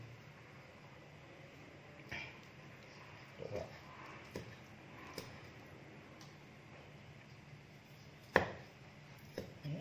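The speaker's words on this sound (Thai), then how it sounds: "ซอยหนังที่ผมต้มไปก่อน" A knife slicing boiled buffalo skin on a cutting board, quiet scattered chops and taps over a soft steady background hum, with one sharper knock near the end.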